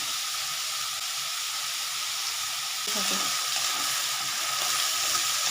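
Chopped potato and pointed gourd fry in a pan with torn dried red chili and black mustard, giving a loud, steady sizzle throughout, with a brief stirring scrape near the middle.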